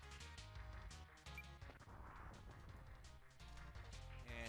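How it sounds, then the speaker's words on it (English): Megaton Punch in the Super NES game Kirby Super Star, a loud crashing, rumbling smash as the earth shatters, sustained with repeated heavy impacts and a final surge. "still shattering the earth there a little bit."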